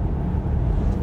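Steady low rumble inside a moving car with the air conditioning running, a constant broad whoosh and road drone that holds evenly with no talk.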